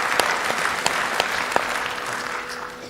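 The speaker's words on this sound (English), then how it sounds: "Let's give them another round of applause." A conference audience at a UN Water 2026 preparatory meeting in Dakar claps in dense, sustained applause, with a few sharper claps standing out before it slowly tapers.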